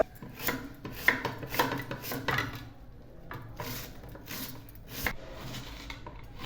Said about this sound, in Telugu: ఉల్లిపాయలు ఈ విధంగా సన్నగా నైస్గా కట్ చేసుకోవాలి